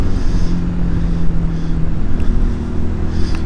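A Honda CD200 motorcycle engine, temperamental with a snagging throttle cable, runs with a steady low throbbing drone close to the microphone, mixed with wind buffeting and no talk.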